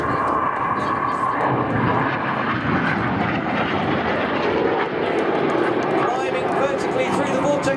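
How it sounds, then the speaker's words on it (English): A display team jet trailing white smoke roars past loudly and steadily at the East Fortune Airshow, a broad continuous engine noise that holds at full volume throughout. "Red 6, who has his white smoke on. This is the Vortex."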